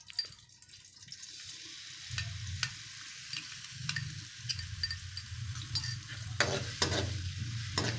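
Crushed green chillies fry in ghee in a wok over low heat, a soft, quiet sizzle that grows louder in gentle bursts as they are stirred, with occasional light clinks.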